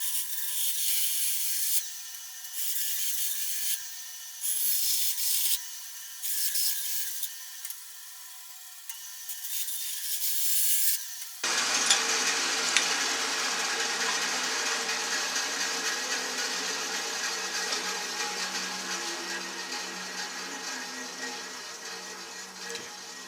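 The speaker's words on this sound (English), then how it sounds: "Let's bandsaw it out." A bandsaw cuts wood during a guitar build, starting with short bursts of steady rasping, then running into one long, loud, continuous cut.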